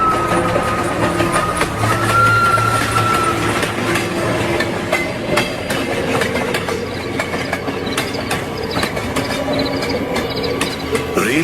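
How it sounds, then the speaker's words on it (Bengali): A night train rolling past a rail yard, steady rumble with rhythmic clicking of wheels over rail joints and a brief tonal note, continuous and fairly close throughout. "রেল ইয়ার্ডে শীষ দিয়ে চলে গেছে রাতের ট্রেন"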